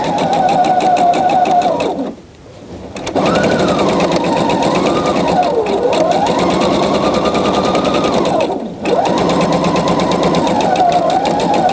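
A sewing machine stitches a rise seam in steady, loud whirring runs, pausing briefly twice as the fabric is repositioned, with its pitch rising and falling as the speed changes.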